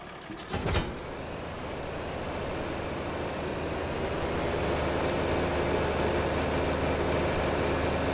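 Steady low tractor engine idling in the video game Farming Simulator 25, a continuous drone after a brief thump at the start, with no talk over it.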